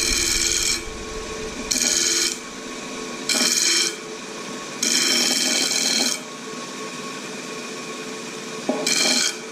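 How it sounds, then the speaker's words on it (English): A metal part is lightly deburred on a lathe with a hand file: five bursts of dry, bright rasping scrapes, each about a second long, sit over a steady spindle hum with short pauses between. "I'm just going to lightly deburr this."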